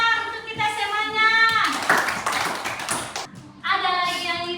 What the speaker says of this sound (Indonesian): Tepuk tangan dulu sayang untuk kita semuanya.